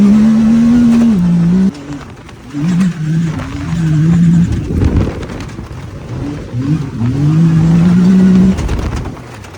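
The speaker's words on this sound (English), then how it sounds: "So, myself and Sven went for a run in the buggy." A rally buggy's engine revs loud and close with rising and falling pitch through gear changes, dropping briefly before surging again during a fast ride.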